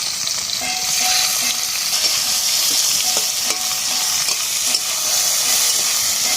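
Chopped onion dropped into hot oil in a pan with fried prawns, a steady loud sizzle and frying hiss with occasional stirring scrapes of a utensil against the pan.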